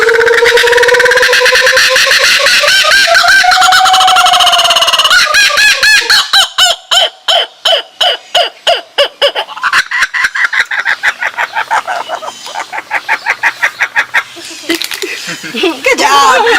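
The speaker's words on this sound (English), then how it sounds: "And that is why we call Cookie the laughing bird" A laughing bird at a Miami wildlife foundation sings its special song: loud, close calls that begin with a long rising and falling whoop, then break into rapid rhythmic chuckling bursts like cackling laughter.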